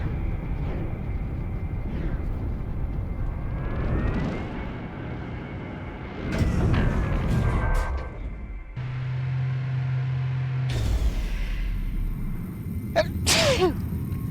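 A person sneezes during a No Man's Sky gaming session, with a few abrupt bursts standing out against in-game engine and ambient sounds.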